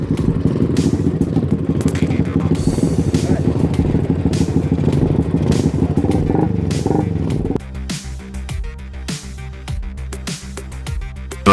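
Motorcycle engines rev and roar loudly in a street race, a busy clattering blast that cuts off abruptly, leaving quieter scattered knocks and thumps.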